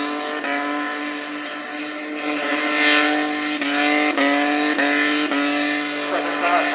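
At a burnout event in Port Pirie, South Australia, a car's engine revs hard and holds high while its tyres spin, with a loud, sustained, harmonic roar and brief dips where the revs drop.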